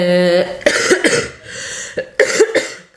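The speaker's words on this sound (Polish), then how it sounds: "kaszel to mnie męczy już" Several rough, chesty coughs from a woman with a two-week cough and sinus trouble come in clusters, close to the listener, with a short voiced sound at the start and brief pauses between bouts.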